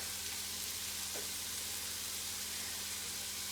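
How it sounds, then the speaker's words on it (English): Garlic and sausage-spinach ravioli filling sizzling steadily in a pan, a constant soft frying hiss with no voices. "You can hear the stuff over here sizzling"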